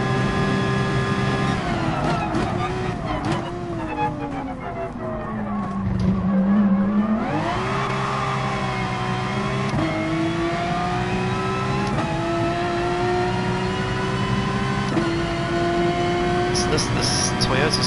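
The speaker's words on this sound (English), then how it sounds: "This Toyota Supra is really quick." A Toyota Supra race car in Gran Turismo Sport, during an FIA online race, revs and shifts with rising and falling engine tones and a spell of tire squeal, steady and close throughout, with a voice talking over it.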